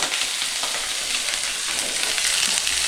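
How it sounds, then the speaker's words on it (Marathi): Onion, ginger and garlic frying in a pan for a village-style crab curry, a dense, even sizzle that is close and steady throughout, with no voices. "असा कांदा लाल भाजून घ्यायचा"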